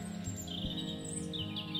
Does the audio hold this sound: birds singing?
yes